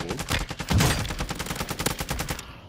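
Rapid automatic gunfire in a multiplayer shooter video game, a loud, close burst of evenly spaced shots that keeps going for a couple of seconds before cutting off abruptly.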